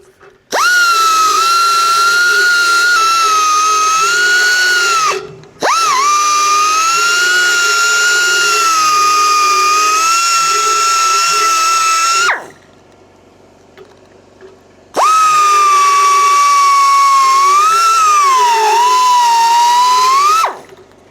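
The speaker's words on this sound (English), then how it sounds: "So what I want to do is just take my die grinder" Die grinder chamfering the inside of bent metal ends for a cable run, a loud, high-pitched steady whine in three long bursts, each cut short as the tool stops, with a near-silent pause between the last two.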